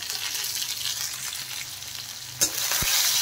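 Crushed ginger, crushed garlic and chopped green chilli sizzle in hot oil, a steady loud frying hiss with a couple of sharp clinks of a spoon stirring the pan near the end, no voices.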